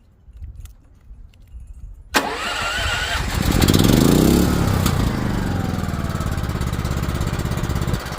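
A farm engine, its battery left sitting in a shed for years, is push-button started: quiet clicks and rattles, then it cranks, catches and settles into a loud, steady running close by.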